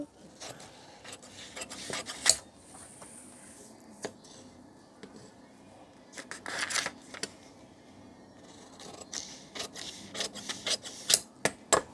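Scissors cut a cross strip of blouse fabric, giving irregular crisp snips and soft rustling scrapes that come in scattered, uneven bursts.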